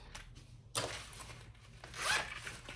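Zipper on a sewn belt bag pocket pulled in short bursts, with a quick opening rasp, a louder longer run in the middle and a sharp final zip, close and alone.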